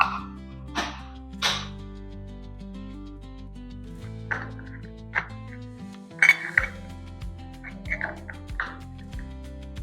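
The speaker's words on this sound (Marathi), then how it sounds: "सर्व झाकण लावून घेऊया आपण." Lids are pressed onto mango kulfi molds one after another, making sharp, close clinks and clicks at irregular intervals, with short quiet gaps and a small cluster of taps near the end.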